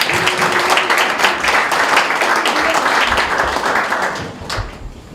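A crowd applauds at a high school Taekwondo poomsae team founding ceremony in Busan, a dense burst of clapping that holds strong before tapering off toward the end.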